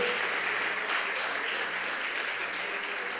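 Applause from a church audience at an evangelical service, a steady dense patter of clapping that holds evenly at moderate loudness throughout, with no one speaking over it.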